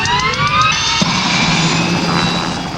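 Aircraft engine drone from a helicopter flying over a park where a grizzly bear is being airlifted, a steady loud whine with rising and falling tonal lines that holds throughout, with no voices.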